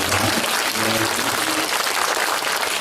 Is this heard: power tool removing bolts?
no